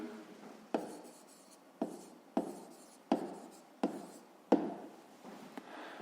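A pen scratching out an answer by hand on paper, seven or so short, close strokes in an irregular rhythm, quiet and with no voices.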